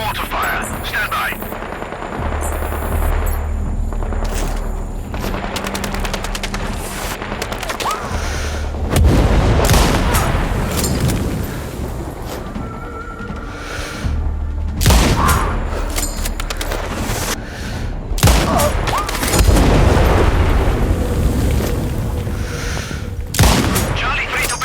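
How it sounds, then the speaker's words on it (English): Mortar fire and explosions in the shooter game Sniper Ghost Warrior Contracts 2, with heavy booms and bursts of gunfire rolling throughout at loud, dense levels, while radio voices talk over the battle. "Continuing mortar fire."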